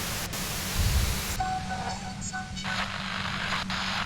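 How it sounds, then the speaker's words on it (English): Dense hissing static washes over everything in Disco Elysium, shifting in tone with faint eerie tonal whines floating through; continuous and fairly loud, with no talking. "Voice trails off into the white noise in your head."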